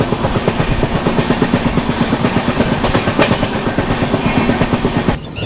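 Rhythmic clickety-clack of the Kashi Vishwanath Express running on the tracks near Shahjahanpur Junction, heard from inside the coach as a steady rolling rumble with regular wheel-joint beats that ease slightly near the end.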